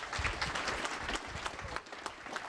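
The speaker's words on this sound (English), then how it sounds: "So I want to give Coach Dantine a round of applause," A varsity football banquet audience applauds a coach, a loud, steady burst of many hands clapping close by throughout the short stretch.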